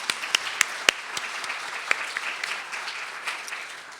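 An audience at a lecture applauds, a dense, even patter of many hands clapping, with a few sharper individual claps standing out and no speech over it.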